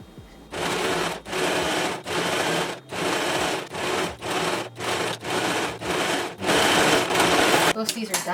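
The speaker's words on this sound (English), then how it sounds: "I'm gonna do the zigzag stitch for the elastic." Sewing machine running a zigzag stitch over elastic for a festival outfit, loud close bursts of rapid mechanical whirring that stop and start about every half second, ending in a longer continuous run.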